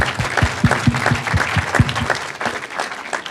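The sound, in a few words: audience applause at a town hall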